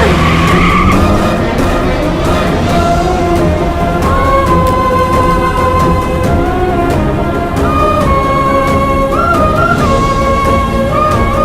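Car tires skidding and squealing as a car tears off in an action scene, a loud continuous shrieking screech with a roaring engine, close and sustained throughout with no talk.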